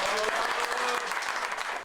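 A crowd gathered for a carp fishing competition's season opener breaks into a short, brisk round of applause, fairly close and steady, with a voice faintly mixed in.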